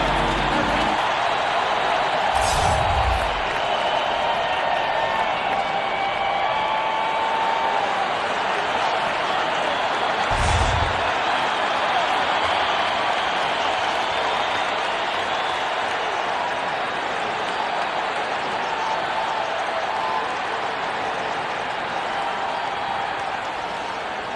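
Continuous indoor arena crowd murmur and roar in a basketball video game, steady throughout, with a couple of brief thuds and commentator talk over it.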